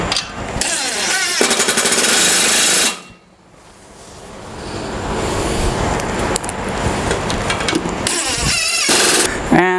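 Power drill boring a series of holes into a router table during assembly, loud harsh bursts of drilling close up with a short pause between passes.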